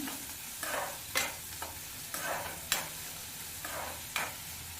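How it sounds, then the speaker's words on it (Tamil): Chopped shallots are sautéed until golden in a pan for a raw banana curry: rhythmic spatula scrapes roughly every half second over a soft, constant sizzle, close and clear with no talking. "வெங்காயம் நல்ல பொன்னிறமாக ஆக வரைக்கும் வதக்கிக்கோங்க"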